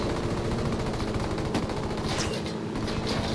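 Gunfire in the video game Ghost Recon: Wildlands comes as dense, rapid automatic bursts, loud and continuous across the moment, with no voices.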